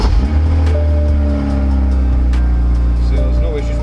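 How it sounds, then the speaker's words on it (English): A BMW car engine runs with a steady low, throaty hum, close and loud, its pitch shifting slightly as it settles into a smooth idle. "And you can still start the car."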